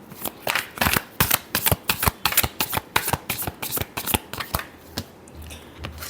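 Tarot cards are shuffled by hand up close in a quick run of crisp riffling flicks and slaps, irregular but continuous, tapering off near the end.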